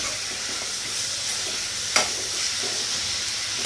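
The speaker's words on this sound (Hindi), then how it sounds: "इसमें हम टमाटो डालेंगे। अब इसे फिर अच्छी तरह से मिक्स कर लेंगे।" Spinach (palak) sizzling steadily in a pan as tomatoes are stirred in, a constant close frying hiss with soft scraping strokes and one sharper utensil tap partway through.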